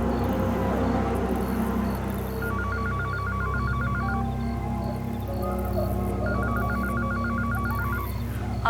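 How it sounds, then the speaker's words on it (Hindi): Telephone ringing in a horror drama scene: two bursts of repeating electronic ring tones over a steady low hum, close and clear with no talking. "तुम्हारा फोन बज रहा है।"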